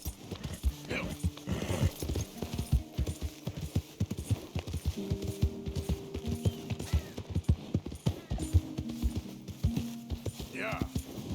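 Horse hooves clip-clop steadily on the ground in the video game Red Dead Redemption 2, in a quick rhythmic gait with an occasional whinny, while someone talks over them.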